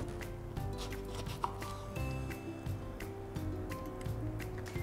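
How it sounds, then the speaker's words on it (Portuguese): Apples being cut into pieces with a knife on a board, a series of faint regular chopping taps repeating about every half second over low background music. "vamos agora cortar as maçãs aos pedaços"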